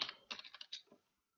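Keys clatter on a computer keyboard in short bursts, a quick run of close, crisp clicks with brief pauses between them, then silence.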